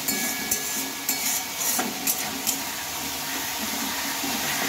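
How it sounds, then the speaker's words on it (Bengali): Spice paste with a little water is stirred and fried over low heat for a spinach and chana dal dish, giving a soft wet sizzle broken by several sharp spoon taps and scrapes against the pan. "হালকা আঁচে মশলাটাকে একটু তোমরা নেড়ে চেড়ে ভালোভাবে কষিয়ে নেবে"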